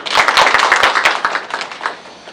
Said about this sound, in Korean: 없으면 박수 한번 주시기 바랍니다.